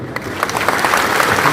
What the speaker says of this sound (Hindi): टिप्रासा के लिए थोड़ा हाथ दो,